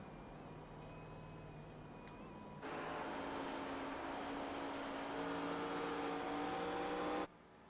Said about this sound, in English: Listen to these cars almost spinning the tires off the corner.